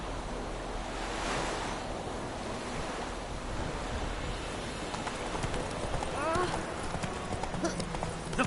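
Horse hooves clip-clop at a steady walk in The Witcher 3, mixed with wind and surf-like ambience, while voices talk over them.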